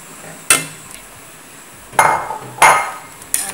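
A metal pot of rice porridge with bamboo shoots is set down on a stove, giving sharp metallic clanks and clinks at irregular intervals, close and fairly loud, with no talking.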